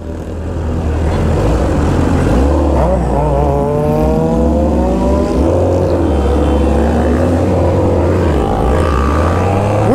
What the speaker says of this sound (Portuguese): muita moto, filho.